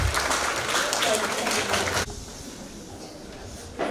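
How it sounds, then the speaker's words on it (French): Applause from parents and guests at a school certificate ceremony, dense clapping for about two seconds before it abruptly drops to a quiet room murmur, with a brief rustle near the end. "On applaudit chers parents."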